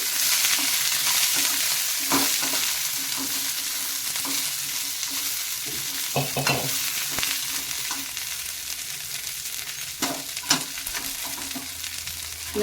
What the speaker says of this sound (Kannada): ಇದನ್ನು ಚೆನ್ನಾಗಿ ಸ್ಲೋ ಉರಿಯಲ್ಲಿ ಹುರ್ಕೋಬೇಕು